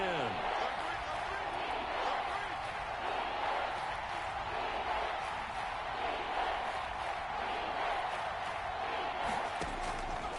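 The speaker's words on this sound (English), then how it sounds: "Crowd getting in it a bit already." A stadium crowd roars continuously at an American football game played on PS4, forming a steady, dense wash of noise throughout with no clear breaks.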